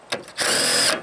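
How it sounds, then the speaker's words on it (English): Impact driver driving bolts on a trailer build at a homestead, a brief close whir followed by a loud sustained half-second burst of rapid hammering before it stops. "I also got the impact driver."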